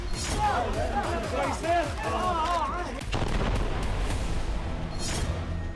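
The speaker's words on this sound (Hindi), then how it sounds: "बेहद ही प्रचंड अंदाज में आईडीएफ खान यूनिस पर गोला बारूद बरसा रही है।" Artillery shelling and gunfire pound Khan Younis in rapid irregular booms and cracks, loud and dense, while a crowd's babble and shouting voices run throughout and a heavier blast hits near the end.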